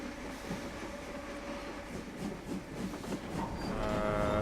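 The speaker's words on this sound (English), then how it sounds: "And there's a train that I thought was coming right for us." A train rumbles past on the Hamilton branch line, a steady rolling drone close by and growing louder toward the end, with a brief high squeal near the finish.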